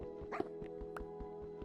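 Dog in a Minecraft survival game, bought for six bones: a steady run of short, light yips and barks repeating about every fifth of a second, mixed with game sounds and a faint voice.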